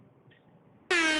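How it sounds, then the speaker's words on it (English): After a near-silent pause, a loud, sudden air horn blast cuts in at the end, brassy and sustained. "Air horn."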